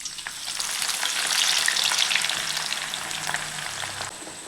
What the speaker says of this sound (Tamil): இதுவும் நல்லா பொன்னிறமாக பொரிஞ்சு எடுக்கணும்.